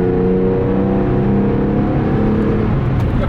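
A car engine running loud and close from inside the cabin while driving, a steady droning hum with rising harmonic tones as it accelerates, no talk.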